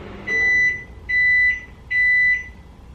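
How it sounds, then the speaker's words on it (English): Three evenly spaced electronic beeps, each a sustained high tone lasting about half a second, loud and clear over quiet background. "oh, it's gonna beep."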